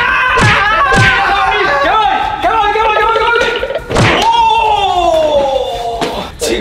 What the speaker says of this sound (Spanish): Rápidamente subimos arriba y nos pusimos a reventar esa puerta.